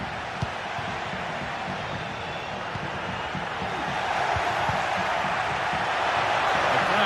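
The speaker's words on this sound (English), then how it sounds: "The crowd urging him to shoot." A stadium crowd in a football video game roars in a broad, steady wash that swells louder toward the end, with a commentator talking over it.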